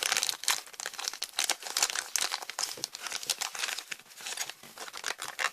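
Double-layer plastic packaging crinkles and crackles as it is unwrapped, with dense, close, fairly quiet rustling bursts that continue without pause and no voices.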